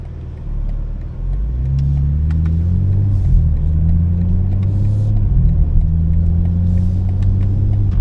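A BMW M4 xDrive pulls hard under acceleration, its engine note climbing steadily in pitch through a long, loud, continuous rev with no voices over it.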